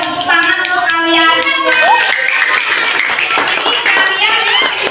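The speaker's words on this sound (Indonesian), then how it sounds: "Tepuk tangan untuk kalian" A school class of children clapping hands together in a classroom, several seconds of brisk clapping mixed with voices and chatter.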